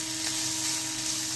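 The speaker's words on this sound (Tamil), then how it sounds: "வெங்காயம் வதங்கிடுச்சுங்க" Onions fry in a pan for semolina upma, giving a brief, even, close sizzle with no voices.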